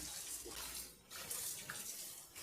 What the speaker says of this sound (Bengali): যেমন আমি এখানে আবারও একবার এই শাকগুলোকে খুব ভালোভাবে ধুয়ে নিচ্ছি।